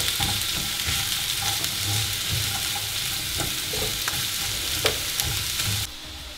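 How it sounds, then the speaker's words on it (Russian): Chopped onions frying in sunflower oil in a pan, giving a steady, close, dense sizzle and crackle with scattered pops from the hot oil and no voices. "Жарим до красивого румяного цвета."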